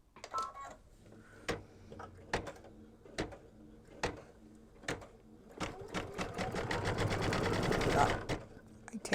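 A sewing machine stitches down fabric pieces on a foundation-pieced mug rug in short bursts and single taps, then speeds into a longer continuous run near the end. It sounds close and fairly quiet, with a few soft handling noises between bursts.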